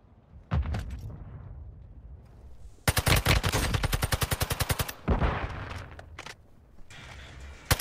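Rapid bursts of gunfire from a silenced gun in the Warzone Mobile shooter game: one long loud run of evenly spaced shots in the middle, with shorter bursts before and after, close and punchy.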